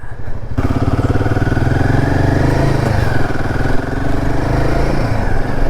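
A motorcycle engine labours steadily and loudly as the bike is ridden up a steep hillside path, a close, continuous droning growl with slight shifts in pitch and no pauses.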